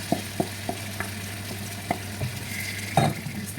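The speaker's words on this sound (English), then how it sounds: "Stir it together." Blended pepper being stirred into frying onions in a pot while cooking okra soup: a series of soft scraping taps against a quiet sizzle, close and faint, with no talking.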